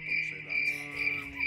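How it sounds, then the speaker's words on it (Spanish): Crickets chirp as a sound effect, a shrill, continuous trilling that pulses in quick rhythm, loud and close, with nothing else heard. "Muchos grillos van a aparecer acá."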